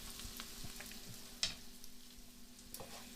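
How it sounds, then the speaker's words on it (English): Sweet potatoes frying in a pan for an organic vegetable curry, giving a quiet, steady sizzle with faint crackles and one sharper pop midway. "So we've been cooking our sweet potatoes for about a minute"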